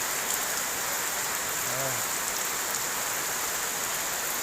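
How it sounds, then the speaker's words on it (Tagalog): Heavy rain pouring down in a steady, dense hiss that fills the whole scene without pause, with a brief short exclamation from a voice partway through. "Lakas ng ulan po."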